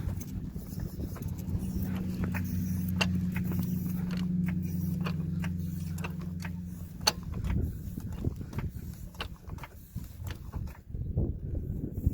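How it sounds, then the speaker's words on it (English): A car jack is pumped to lift a 2013 Honda Accord from its frame, giving a close, rhythmic series of metallic clicks and creaks over a low mechanical hum. It continues for several seconds, then gives way to scattered clunks. "We'll start pumping to raise the car."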